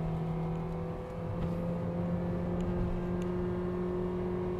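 A 2021 Mitsubishi Xpander holding second gear at around 5,500 RPM and 90 km/h, with a steady, loud in-cabin engine whine and road roar under a sustained high-pitched drone.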